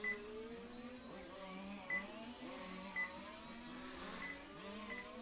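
Faint whine of electric RC touring race cars lapping the track at the EFRA LSTC Euros 2022 qualifying, rising and falling pitches with distant motor hum and no voices.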